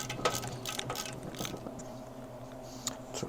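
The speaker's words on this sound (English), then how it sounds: "So let me pop off the oil fittings." Metal oil fittings on a Harley XLCH engine case are worked loose, giving faint clicking, ratcheting taps and small metallic knocks, close up and quiet with no talking.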